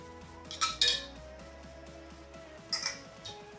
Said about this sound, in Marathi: तर आता तूप गरम आहे म्हणून आपण चम्मचनं कालवून घेऊ